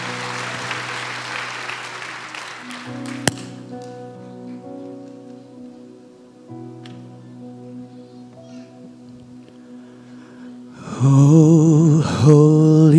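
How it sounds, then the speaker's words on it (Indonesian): A congregation at a Christmas morning church service bursts into loud, dense clapping near the end, after a stretch of sustained organ-like chords and quieter sounds. "Tepuk tangan buat Tuhan Allah kita."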